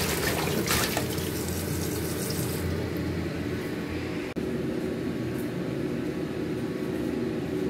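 Tap water runs steadily into a sink while cabbage is being washed, a broad continuous hiss close by with a brief clunk near the end, no talking.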